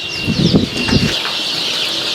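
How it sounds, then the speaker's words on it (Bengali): Hungry desi chickens on a poultry farm burst into loud, close wing flapping with clucks, which then settles into a quieter background rustle. "একটু খাবার দিতে দেরি হয়েছে, এর জন্য মুরগি একদম বিঘার হয়ে গেছে গা"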